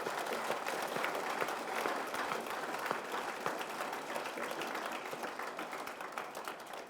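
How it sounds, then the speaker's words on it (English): Audience applause for speakers at a school speech competition finals awards, a dense, steady wash of many hands clapping throughout, loud and continuous without talk. "So I want us all to give a round of applause to our speakers."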